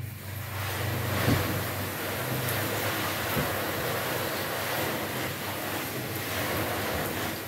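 Water pours and splashes steadily onto white car paint, a continuous broadband wash with no speech.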